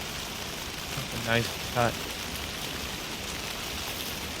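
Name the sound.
constant rain in the video game Alan Wake 2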